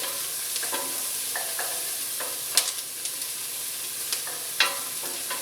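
Onion fries in a cooling pan with a steady hissing sizzle, broken by occasional sharp clicks and scrapes of stirring, close by and with no talk.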